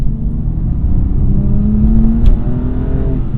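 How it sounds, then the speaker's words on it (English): A stock BMW M2 Competition's exhaust drones loud and close from inside the cabin, a steady deep engine rumble with a rising whirring tone as the car pulls under throttle. "I actually can hear the exhaust from the inside of the car, even stock"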